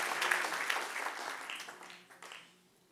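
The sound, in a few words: applause from a church congregation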